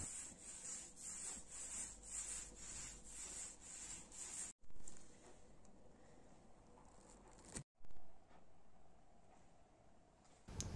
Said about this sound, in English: I gave it a light sanding.